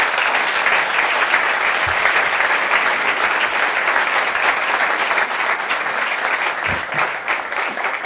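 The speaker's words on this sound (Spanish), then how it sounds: "Por ello, que sea nuestro aplauso la muestra del merecido respeto y admiración que tenemos por don Jesús." Sustained, loud applause from an audience at an award ceremony, steady clapping filling the whole stretch without any voices.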